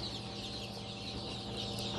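Newly hatched chicks cheeping inside an incubator, a dense overlapping chorus of high, thin peeps that stays steady and close from start to finish.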